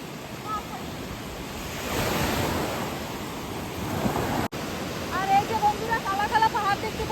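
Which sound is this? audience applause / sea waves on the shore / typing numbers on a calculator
sea waves on the shore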